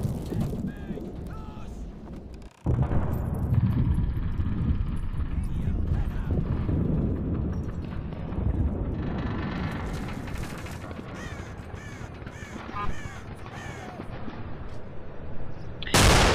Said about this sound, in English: I'm going to fire another volley.